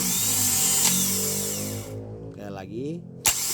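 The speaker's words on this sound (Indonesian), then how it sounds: "Setelah itu dinamo starter ini akan bekerja ya" A car's starter motor cranks with a whirring, drill-like whine for about two seconds and then stops, followed by a voice speaking and a brief click.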